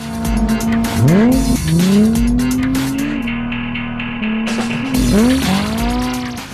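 A yellow 2001 Honda S2000 and a 2007 Mazdaspeed street-race with loud, close tire squeals that swoop up and down in pitch over constant engine roar, sounding like hard drifting and skidding on pavement.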